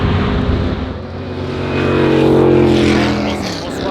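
Ford GT40 and other racing cars at the Goodwood Revival circuit roar past in a loud, rising and falling engine drone, pitch climbing and swelling mid-pass, with crowd murmur and a voice in the background.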